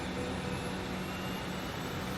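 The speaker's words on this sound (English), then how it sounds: "You hear that engine hum?" A spaceship engine hums inside The Outer Worlds video game, a steady broadband whooshing drone with a faint high whine, almost kettle-like, holding evenly throughout.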